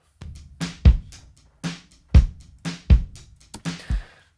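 Low, booming kick drum hits from a live drum kit, run through a console emulation with a boosted EQ, land in an uneven pattern of roughly eight strikes, each with a short body and crisp attack, with nothing else around them.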